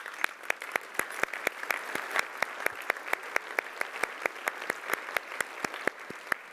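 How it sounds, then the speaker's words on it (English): Audience at a business summit luncheon unveiling a 3D-printed car claps in a steady, evenly spaced rhythm, the sharp claps carrying over a soft crowd wash for several seconds with no talking. "Give yourself a huge round of applause."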